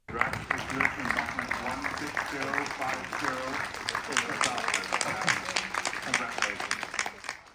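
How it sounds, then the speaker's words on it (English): Steady applause from a room full of delegates at a resolution vote, many hands clapping at once, with voices speaking over it throughout. "The Ukrainian delegation was congratulated with applause."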